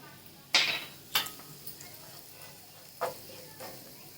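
Cumin seeds dropped into hot oil in a pan for a peanut and raw mango chutney give sharp sizzling bursts, a loud crackle followed by several smaller ones at uneven intervals, close up, with no talking.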